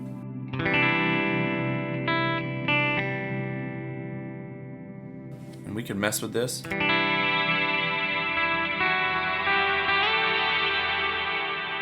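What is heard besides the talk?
guitar through modified reverb on HX Stomp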